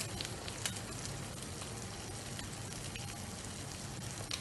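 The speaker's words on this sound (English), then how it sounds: "see the oil is sizzling" Steady, quiet sizzling of olive oil in a frying pan while cooking a cheese omelet, a continuous crackly hiss with occasional small pops and no talking.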